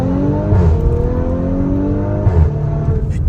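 An Audi S5 engine accelerates hard from inside the car, its loud, rising tone climbing through the revs, dropping at a gear change and climbing again.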